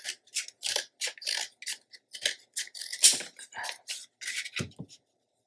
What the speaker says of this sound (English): So I'm going to do a little trimming.